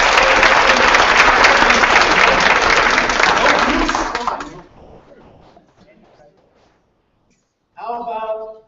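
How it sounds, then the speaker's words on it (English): Loud, dense applause from an audience at a school district board meeting, sustained for about four seconds before fading out, followed by silence and then a brief spoken voice. "So if they're not here, please applaud extra loud."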